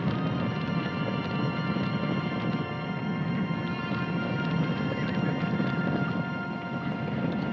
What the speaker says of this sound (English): It's the last big horse roundup you'll see in these parts.